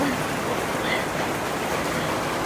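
Heavy rain falls in strong wind at a house, a dense, steady roar of hiss and patter that fills the whole moment without pause and with no voices.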